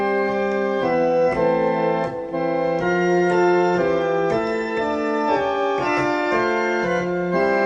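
Church organ playing the hymn tune Abbot's Leigh with both hands, sustained chords moving in a steady hymn rhythm, full and close without any talking.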